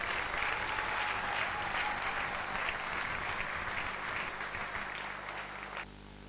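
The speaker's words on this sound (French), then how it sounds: "on applaudit suffisamment. Applaudissez." A church congregation at a seventieth-birthday celebration for a reverend applauds loudly and steadily, a dense wash of clapping that stops abruptly near the end.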